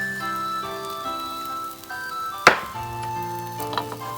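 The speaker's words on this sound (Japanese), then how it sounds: "ここで火を中火にし、卵を3分の1を入れます。" Beaten egg for Japanese dashimaki tamago sizzles in an oiled pan over medium heat, a steady close crackle under a faint tonal hum, with a sharp clack midway and a softer knock near the end.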